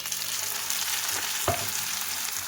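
Ground tomato and spice paste hits a hot pan for rajma gravy, giving a steady broadband sizzle throughout with one brief louder splutter midway, close and continuous, no voices.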